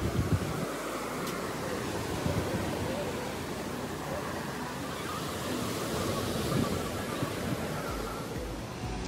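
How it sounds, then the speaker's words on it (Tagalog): Strong ocean waves roll onto the beach at a seaside resort in Morong, Bataan, a continuous broad roar of surf with wind, steady and fairly loud throughout. "ay maririnig mo na nga ang alon ng dagat"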